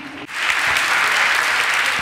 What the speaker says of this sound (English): Okay, applause for our guests once again.